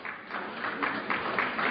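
Audience applause in a lecture hall, a steady broadband patter of many hands clapping at moderate level throughout, with no voices over it.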